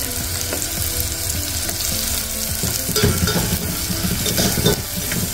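Green chillies and a spoonful of salt hit a hot pan for a festive paneer pulao, frying with steady loud sizzle and repeated stirring scrapes and clinks of a spoon against the pan, close up throughout.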